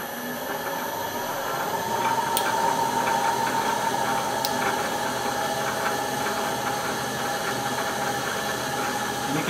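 A South Bend lathe driven by a VFD turns slowly at a little over 40 RPM, giving off a steady mechanical hum with a faint whine and two sharp ticks, close and without talk.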